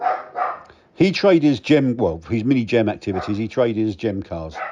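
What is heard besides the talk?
Dachshund dog barking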